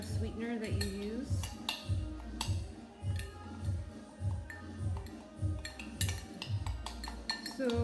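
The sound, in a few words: stirring a drink with a spoon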